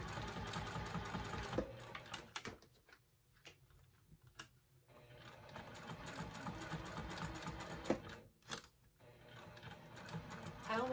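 A sewing machine stitching a tote bag runs in bursts of rapid ticking, stopping briefly for pauses and short sharp clicks, close and fairly quiet, with faint talking in places.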